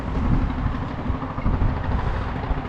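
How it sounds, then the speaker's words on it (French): A heavy engine rumbles and clatters nearby, a low steady drone with slight fluctuations and no talking. "le bruit qu'on entend, c'est un camion ou un tracteur"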